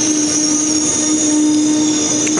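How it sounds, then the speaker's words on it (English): A train pulls into Munich Central Station on a cold day. It is arriving from Nuremberg. The rail noise is loud and steady, with a sustained high wheel squeal over a constant rumble. "This train now arriving here is the 11:56 from Nuremberg."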